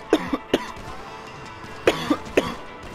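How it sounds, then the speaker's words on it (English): Someone coughs in two short clusters of sharp, close bursts, two or three coughs each, separated by a quiet gap with faint background noise. "I was gonna laugh, but I just coughed instead."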